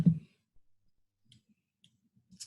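A computer mouse clicking during a technical drawing session, heard as one sharper click followed by a few faint, sparse ticks in near silence.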